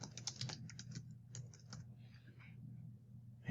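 Someone types a name on a computer keyboard: a quick run of soft, close key clicks, denser at first and then thinning out. The sound is quiet and sits over a low room hum.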